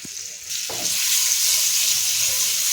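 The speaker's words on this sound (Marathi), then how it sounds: "ह्याच्यामध्ये ना मी आपण जे तयार करून घेतलेले बॉल्स आहेत ना ते टाकून घेणार आहे आणि ह्याच्यामध्ये असं छान असं परतून घ्यायचं आपल्याला" Leftover rice balls drop into a hot, spiced pan and are sautéed, setting off a loud, steady sizzle close by after a brief knock at the start.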